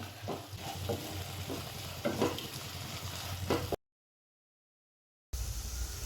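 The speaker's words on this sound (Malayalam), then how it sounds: "ഈ തക്കാളി പേസ്റ്റ് ഇതിൻ്റെ കൂടെ ചേർത്ത് ഇളക്കി" Tomato paste masala for chicken kondattam sizzles in oil as it is stirred in a pan, with steady frying hiss and scraping strokes, then a brief silence before the sizzle resumes.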